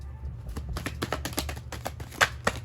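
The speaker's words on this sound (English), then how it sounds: "deal out these motherfucking cards. Shuffling them up, letting them fall as they may." Tarot cards being shuffled by hand, a run of quick crisp riffling and tapping clicks in irregular bursts, close and fairly quiet with no talking.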